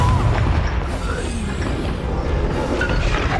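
The Confringo blasting spell in Hogwarts Legacy goes off as a deep booming explosion, a loud sustained low rumble with crackling debris throughout.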